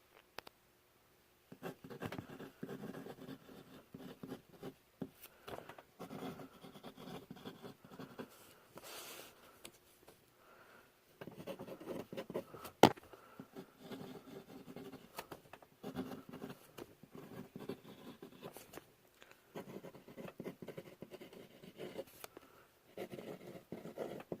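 A Jinhao 500 fountain pen writes on paper with a faint, close scratching in short bursts and pauses between strokes, quiet and alone.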